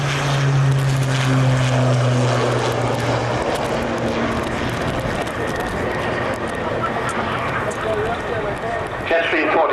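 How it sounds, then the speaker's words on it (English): A Jetstream 41 turboprop airliner at the 1992 Farnborough Airshow gives a steady propeller and engine drone with a low tonal hum, loud and continuous throughout, while a commentator talks over it. "Jetstream 41, a major development out of the highly successful Jetstream 30."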